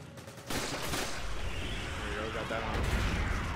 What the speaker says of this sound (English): Oh, another hand grenade.